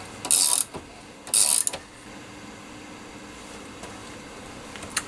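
A ratchet spanner tightens a stainless steel stud on a Triumph motorcycle, two quick bursts of rapid close clicking about a second apart, then quiet workshop background with a faint tap.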